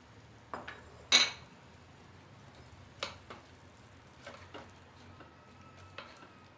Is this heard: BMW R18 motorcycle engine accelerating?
no